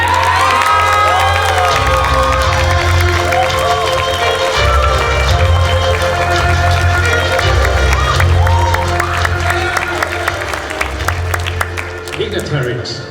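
At an outdoor Lunar New Year flower fair opening ceremony, a large crowd claps, cheers and whoops with children shouting, lively and continuous, while a low rhythmic drumbeat pulses underneath and the noise eases toward the end.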